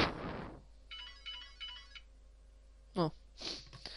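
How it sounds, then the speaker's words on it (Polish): Alarm clock ringing in bursts of a bright electronic trill, three short repeated chirps at moderate loudness after a brief noise, followed by a couple of sharp close sounds. "O, budzik."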